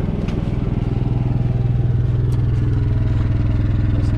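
A generator runs close by at an off-grid site, its exhaust giving a steady, loud low chugging drone with a fast, even pulse and slight mechanical clatter, alone with no talk.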